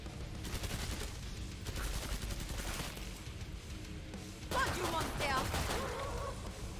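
Gunfire in the video game Killing Floor 2 on an asylum map rattles in rapid bursts of automatic fire. Squawking creature noises mix in partway through, and the whole thing sits fairly faint in the mix.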